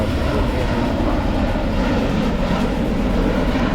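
Steady broadband roar of an airplane flying overhead near Singapore airport, loud and continuous throughout, with no talk.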